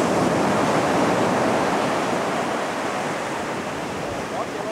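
Sea waves washing onto the coast as the tide comes in, a steady broad rushing surf that stays loud and close the whole time with no other sound standing out.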